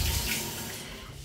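Tap water runs steadily in a newly built apartment during a commission's inspection before handover, a short continuous broadband rush that is fairly loud and fades slightly toward the end, with no talking.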